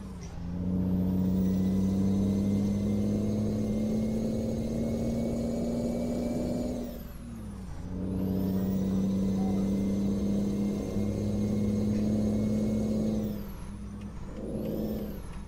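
Kenworth T800 dump truck hauling 40 tonnes in Euro Truck Simulator 2: a steady low diesel drone runs loud and close, shifting pitch as the driver works through the gears. Two pressure dips near 7.5 and 14 seconds suggest brief air-brake or gear-change releases.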